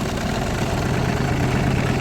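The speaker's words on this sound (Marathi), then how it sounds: "बघा ट्रॅक्टर कसं उचलतो" A tractor engine labours steadily up a slope, a continuous low rumbling drone with vibration, close and unbroken.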